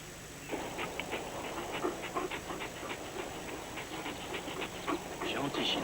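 A military dog pants in quick, steady rhythmic breaths close by, continuing throughout over a low background hum.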